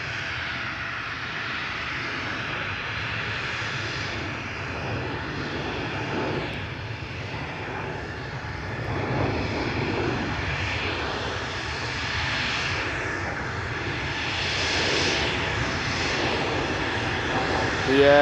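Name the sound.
aircraft aborted takeoff at Amsterdam Schiphol Airport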